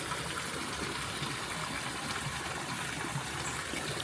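Water flows out from under a rock in a natural-style spring at a temple garden in Vientiane, Laos, a continuous close rushing trickle with no voices.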